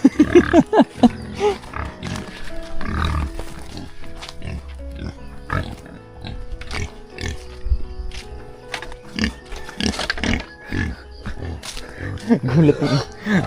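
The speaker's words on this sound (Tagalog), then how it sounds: "Baboy oh." Pigs on a farm grunting and squealing loudly and close by, continuous and busy, with people talking over the animal noise throughout.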